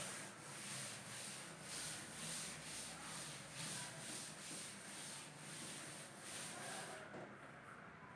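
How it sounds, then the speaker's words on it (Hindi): Steady back-and-forth rubbing or erasing on a surface during a math lesson, continuous rhythmic scrubbing strokes close up for about seven seconds, then trailing off. "दोस्तों अभी मैं ये रब कर रहा हूं."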